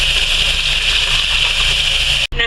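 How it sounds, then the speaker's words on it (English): Water pours steadily into a pot of beef stew, a continuous bright rushing stream at close range that cuts off abruptly near the end. "Now we're going to add more water."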